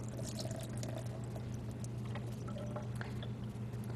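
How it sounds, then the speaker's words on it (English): Fruit being rinsed under running tap water in a home kitchen, a steady close pour and splash with small drips, continuous and moderately quiet. "I'm going to rinse these off real quick."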